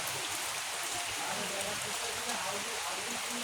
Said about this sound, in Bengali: অনেক বৃষ্টি, এই বৃষ্টির জন্য বাহিরেও যাইতে পারতেছি না।